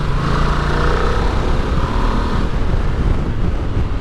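A Ducati Multistrada motorcycle engine drones steadily and loudly while riding, with a rough low rumble mixed with wind noise and no speech.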